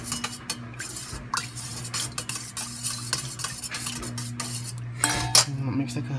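Spoon stirring a deer jerky marinade in a bowl, with repeated close clinks and scrapes against the bowl's sides and a steady low hum underneath.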